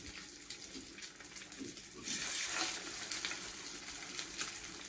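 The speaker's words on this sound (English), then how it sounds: "So our oil has been popping and we're gonna put our burgers in" Burgers drop into hot, popping oil and fry, giving a steady close hiss that swells and grows louder partway through as the patties hit the oil, with a few sharp crackles.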